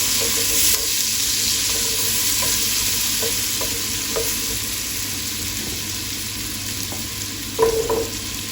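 Onions for butternut squash soup fry in a pan with a steady, soft sizzle, broken by occasional scrapes and clicks of stirring. No one speaks.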